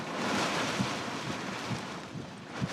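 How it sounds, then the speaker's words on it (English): Strong wind gusting over 60 roars against a microphone in a broad, steady rush, with a few heavier low buffets surging through. "there's a good gust. We got gusts over 60 here."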